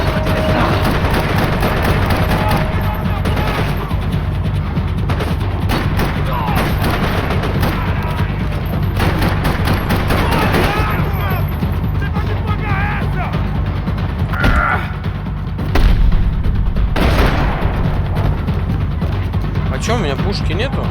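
Gunfire in the video game Max Payne 3, a steady barrage of shots and booms over constant loud background noise, with people talking throughout.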